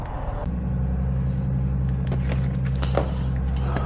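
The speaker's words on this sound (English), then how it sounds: "we have the Skyline running" A Nissan Skyline engine with new shielded wiring and no belts fitted catches and settles into a steady, loud idle rumble. Scattered clicks and small knocks sound over it.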